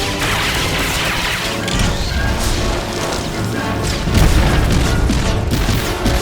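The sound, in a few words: missile barrage explosions in Star Wars: The Old Republic video game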